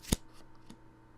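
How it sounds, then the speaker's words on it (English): A card flipping face-up in a match-2 game: one short, crisp papery snap near the start, then a fainter soft tick shortly after, with quiet between. "This is the current sound that plays when you flip the card up."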